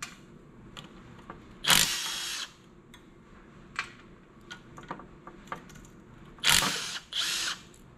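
Bracket bolts come off during a power steering pump and reservoir swap, with short loud bursts of a power tool or ratchet at close range, separated by scattered clicks and quiet handling noise.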